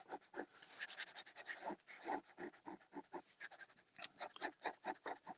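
A pen with a nib that is not working well scratches across paper in quick, close-up strokes, a steady run of short dry scritches with brief pauses between words.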